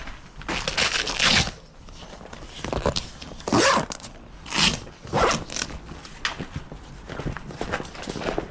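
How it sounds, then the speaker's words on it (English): Velcro and a zip being opened on a bag or case with a bungee closure, heard as bursts of ripping and scratchy rasping, loud and close, with rustling handling noise between the pulls. "Velcro and zip."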